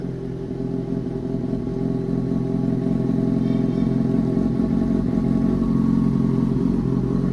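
Kawasaki Ninja superbike exhaust on a cold start, before warming up, burbling at a steady low idle with a slight rise in level and no voices.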